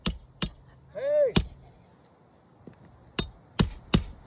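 Hammering during back slope repair work outdoors, several sharp separate strikes spread across a few seconds, with a brief tonal ringing burst in between, close and fairly loud with no talk.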